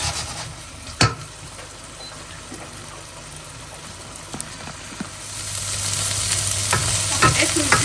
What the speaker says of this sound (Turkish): güzelce kızarttı tavuk eti yani